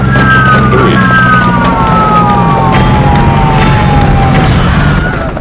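A missile-firing sound effect blended with sirens: loud, continuous wailing tones that glide steadily downward over a dense, rumbling roar lasting the whole stretch.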